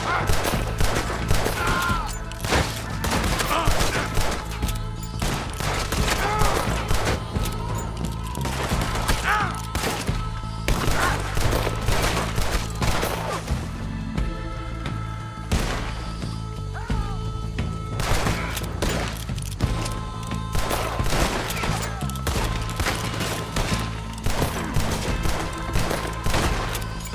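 Western-style gunfire in Red Dead Redemption 2 as a sheriff's posse clears out huts: sustained, loud volleys of overlapping shots and sharp cracks, in irregular bursts with brief lulls.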